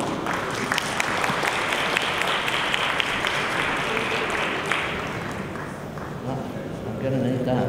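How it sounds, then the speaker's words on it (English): Sustained audience applause at a business conference, a dense wash of clapping from a sizable crowd welcoming a speaker to the stage, steady for several seconds and tapering slightly near the end. "Please join me in a round of applause to welcome Mr. Matt Harty."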